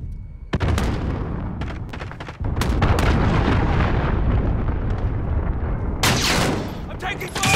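Video game combat: dense, loud gunfire and explosions crack and boom almost continuously, with sharp bursts layered over a constant roar and a fresh burst of blasts near the end.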